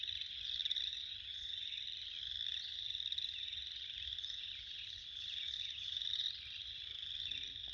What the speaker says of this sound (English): Listen to the frogs.